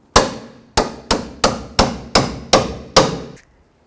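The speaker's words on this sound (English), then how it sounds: "I'm just going to take a hammer and hammer it off." Seven sharp metallic hammer blows strike a sway bar link on a 1997-2001 Jeep Cherokee, landing at a steady, fairly quick rhythm, each ringing briefly before the next, loud and close with no talking.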